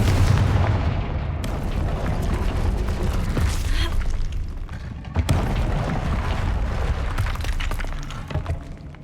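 Confringo fire-blast spell in Hogwarts Legacy: a loud booming burst with crackling, rumbling debris and a second blast shortly after, over continuous battle din.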